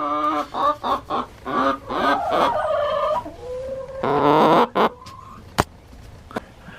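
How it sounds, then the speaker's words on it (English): Chickens making singing noises: a series of rhythmic, loud clucks and drawn-out warbling calls close by, followed by quieter scattered sounds. "chickens go out and they'll make all kinds of singing noises"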